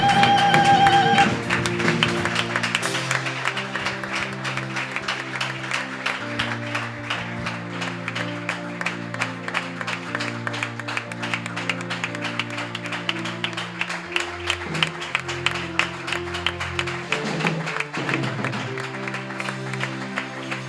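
A church congregation in Brazzaville stands and applauds, with steady, dense clapping running throughout alongside music, loud and close.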